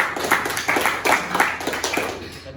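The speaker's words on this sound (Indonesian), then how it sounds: "Tepuk tangan untuk Dede." Classroom applause at a vocational high school lesson, a few students clapping in scattered, irregular bursts, fairly close and moderately loud, with no one speaking.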